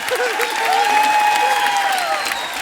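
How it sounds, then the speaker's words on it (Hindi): A studio audience on a Hindi comedy show applauds in a sustained burst of clapping, with a voice speaking or singing faintly over it. "आप ताली बजा के मजा लेने का।"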